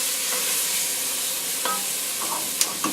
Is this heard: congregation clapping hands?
no